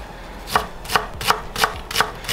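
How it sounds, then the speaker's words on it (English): A knife dices a red onion on a cutting board, six crisp evenly spaced chops about every third of a second, close and clear with no talking. "with the red onion, we're just gonna slice little pieces, small dice."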